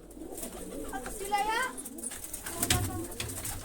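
Soft pigeon cooing, a few low throaty coos amid outdoor background noise and faint chatter.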